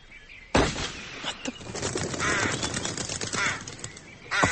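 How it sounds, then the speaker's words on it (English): A flock of startled birds bursting up from trees in an old-time radio drama, a sudden loud flurry of flapping wings and harsh crow-like caws that continues, busy and close, before another burst at the end. "flock of startled birds rose from the trees"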